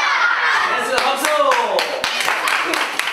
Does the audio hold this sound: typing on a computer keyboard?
no